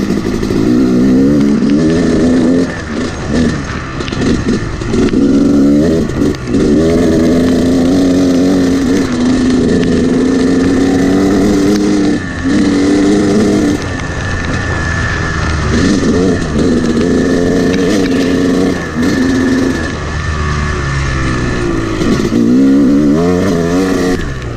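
A motorcycle rides a muddy trail in pouring rain, its engine droning close and steady with rises and dips in throttle throughout.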